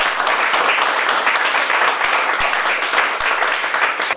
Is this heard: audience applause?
yes